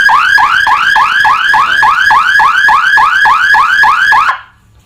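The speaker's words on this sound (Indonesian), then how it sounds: "ketika ada pergerakan di depan alarm, dia akan bunyi lagi" A motion-sensor alarm siren, a TOA ML20 unit, wails loudly in a rapid repeating rising sweep, about a dozen cycles, then cuts off abruptly near the end, leaving quiet.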